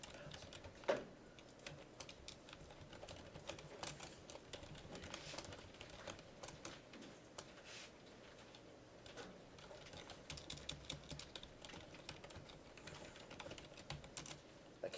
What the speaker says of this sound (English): Y'all are used to typing this.